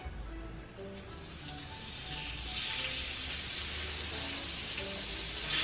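Butter and sausages sizzling in a frying pan, a continuous close crackling hiss that swells louder partway through and keeps going on its own.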